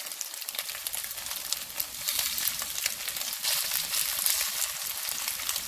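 Beef for beef and broccoli fries in a pan with a dense, steady sizzle that swells slightly partway through, close and unbroken, with no talking.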